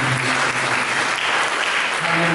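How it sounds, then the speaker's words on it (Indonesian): A church congregation applauds steadily, dense continuous clapping that fills the whole moment at full volume. "Mari kita berikan tepuk tangan yang berikan."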